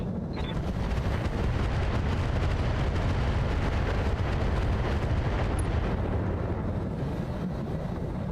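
Heavy weapon fire and explosions from a BattleTech RogueTech mech battle form a dense, continuous low rumble and roar, loud and unbroken, with no clearly separated individual shots.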